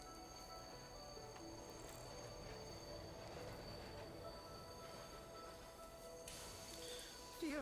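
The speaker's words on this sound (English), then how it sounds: "In the distance, Theo could just about spot the station, approaching at a rapid pace." A train runs steadily along the rails with a continuous rumble and tonal wheel whine throughout, growing slightly louder and brighter near the end as it draws toward a station.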